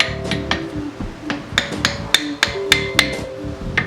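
A hammer taps brake pads and rotor parts into place on a 2010-2014 Volkswagen GTI front brake, giving a series of sharp metallic knocks in an uneven rhythm, close and fairly loud.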